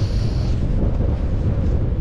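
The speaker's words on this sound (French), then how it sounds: "Par contre là il y a du vent." Strong wind in the Jura mountains buffets the microphone, a loud, steady low roar with gusty rumbling and no voices.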